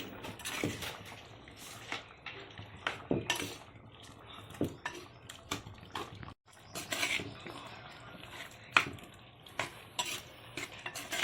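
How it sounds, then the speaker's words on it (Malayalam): Chopped tomatoes stirred into a bubbling beef perattu curry in a clay pot, with irregular scraping and clinking of a spoon against the pot over a low simmer, close and moderately quiet, with no talk. "തക്കാളി പീസുകളും കൂടി ചേർത്തിട്ട് നന്നായിട്ടൊന്ന് ഇളക്കി കൊടുക്കുക"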